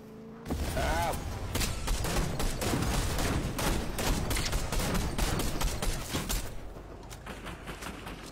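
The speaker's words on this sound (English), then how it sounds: "Those guys shooting at us." Video game gunfire in a late-game arena match rattles in rapid, dense bursts of shots, loud and continuous, with faint voices underneath.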